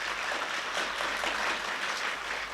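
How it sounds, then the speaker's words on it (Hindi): A church congregation clapping to give thanks to God, a dense, sustained burst of applause from many hands, loud and even from start to finish. "ताली बजा के प्रभु को धन्यवाद दें।"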